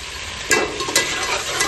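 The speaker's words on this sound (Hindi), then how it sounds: "अब इसको लहसुन अदरक का कच्चापन निकलने तक इसको अच्छी तरह से भून लेंगे।" Garlic and ginger sauté in a pan with a steady sizzle, broken by two or three brief scraping stirs.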